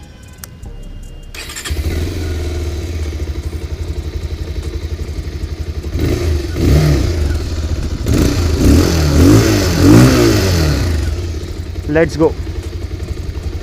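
A Bajaj Pulsar BS6 220 Fi motorcycle starts up and rides off, its engine thrumming loudly and revving as it moves, with a rider speaking briefly over it.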